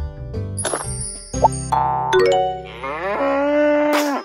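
A cow moos in a low, drawn-out call, with a chime ringing out before it, in a cartoonish, close-up game effect.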